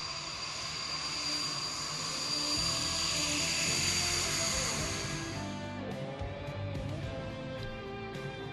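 Indian Air Force fighter jet roaring past at an air show, a loud, sustained engine roar that swells and then fades after several seconds into distant rumble.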